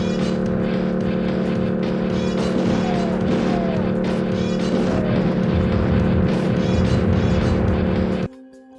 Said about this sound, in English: The top-down driving sections of the game that are used to link levels as a sort of interactive glue